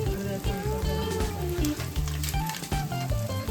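Malvani masala spices for crab curry sizzle and fry in hot oil, a steady crackling hiss under a louder layer of tonal background music.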